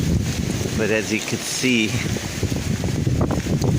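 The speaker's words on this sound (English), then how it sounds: "it's windy." Strong wind gusting outdoors on a dusty day, a steady roaring rush with buffeting against the microphone, heard under someone talking.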